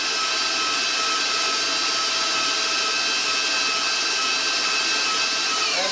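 An electric hand mixer runs steadily and loudly, beating eggs into butter for cherry chocolate chip cookie dough, a continuous whirring drone without a break.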